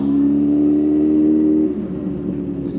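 Close, steady engine drone from a motorcycle riding through heavy traffic on a night road trip from Batangas City to Dau, Pampanga, holding a loud even tone before dropping to a rougher, lower rumble.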